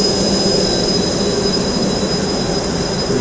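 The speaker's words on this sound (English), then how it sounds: "This is the output line of DG exhaust." Diesel generator exhaust roaring at a thermal power plant, a loud, steady, broadband industrial rumble and hiss with faint high whines, constant throughout with no voices.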